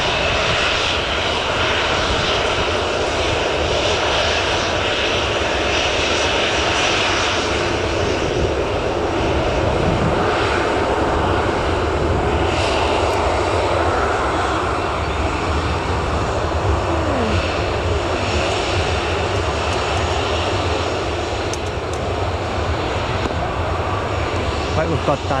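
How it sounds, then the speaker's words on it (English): A Falcon business jet taxis out at Newcastle Airport, a loud, steady engine roar and whine filling the whole stretch, with people talking over it close by. "we've got that Falcon as well, taxiing out"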